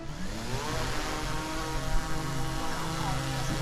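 DJI Mavic 3 Classic drone taking off at night, a steady close whine of small propellers holding constant throughout the short stretch.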